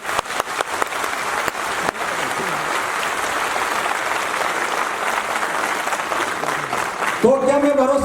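An audience claps together in a sustained, dense round of applause at a speech-style gathering in India, loud and steady throughout, with a voice briefly emerging near the end.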